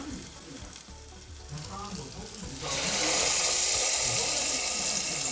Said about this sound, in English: Try to get the side of it to sear.